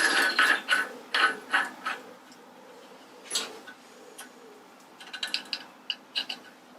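A metal nut threaded onto a pulley spindle with the spindle's flats, giving a run of close, light metallic ticks and clicks in short bursts, a pause, then a quicker flurry of small clinks.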